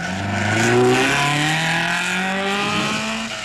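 An Alfa Romeo rally car engine drones loudly and steadily at the 1958 Coupe des Alpes, its pitch rising and falling through the gears as the car passes close by.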